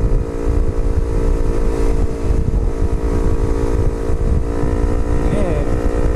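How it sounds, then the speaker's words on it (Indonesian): A motorcycle engine drones steadily while being ridden on a smooth road, loud and close, with wind buffeting the microphone throughout. "manasin motor sekalian."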